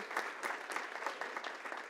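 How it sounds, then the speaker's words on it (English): An audience at a First Friday gathering applauds with dense, steady clapping from many hands, moderately near and fairly quiet, sustained evenly across the whole stretch. "I'd like to give a round of applause for him too"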